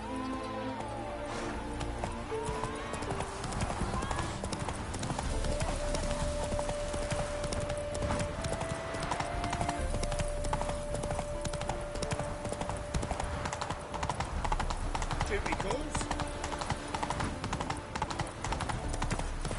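A horse gallops in The Witcher 3, its hoofbeats a steady, rapid clip-clop rhythm that runs the whole way beneath game music and ambience.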